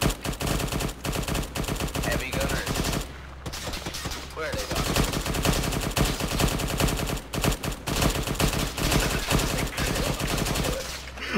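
Dense gunfire in the video game Arma 3: rapid bursts of automatic shots crackle almost nonstop, loud and close, with only a brief lull partway through.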